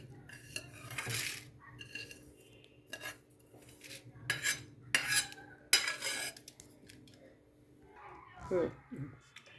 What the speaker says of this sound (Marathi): हे जिरे पण आपण आता तेलावर परतले झालेत ते आता आपण ते काढून घेऊया